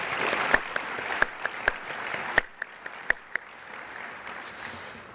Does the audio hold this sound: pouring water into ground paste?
no